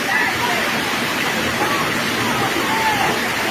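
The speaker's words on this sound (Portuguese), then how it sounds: "Muita água no Ipu, aí." Floodwater after heavy rain roars through the streets of Ipu, Ceará, strong enough to sweep a motorbike along. The rush is a constant loud, close broadband wash with faint voices mixed in underneath.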